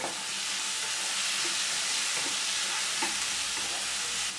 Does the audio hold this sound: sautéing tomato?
yes